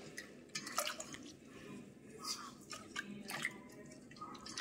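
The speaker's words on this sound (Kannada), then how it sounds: "ಆ್ಯಂಡ್ ಇದಕ್ಕೆ ನಾನೀಗ 1 ಗ್ಲಾಸಷ್ಟು ನೀರನ್ನು ಹಾಕ್ತಾ ಇದ್ದೀನಿ." Water from a glass is poured into jowar and ragi flour in a kitchen, heard as faint irregular trickles and splashes, quiet and close.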